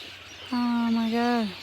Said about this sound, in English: Over there, a bunch of birds.